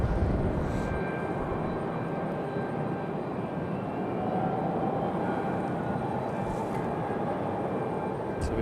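A JetBlue jet airliner rumbles on the runway at Raleigh-Durham International, a steady broadband engine roar with a faint whine, continuous and moderately distant for the whole stretch.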